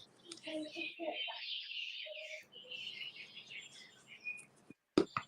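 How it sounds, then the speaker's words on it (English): Bright chirping bird calls in quick bursts, with a voice speaking among them and a brief sharp clatter near the end. "It sounds like birds."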